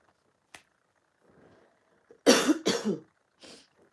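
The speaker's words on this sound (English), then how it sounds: "I do apologise for the coughing." A close, harsh double cough bursts out after a quiet stretch with a small click and faint breathing, followed by a softer short exhale.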